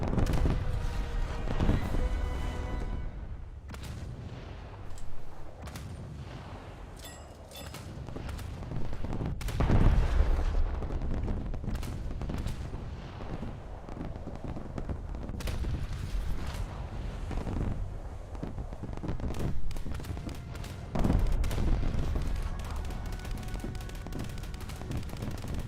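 Gunfire in the video game WarChonk: rapid, dense volleys of shots and booming blasts crackle in clusters, with quieter gaps between heavier bursts.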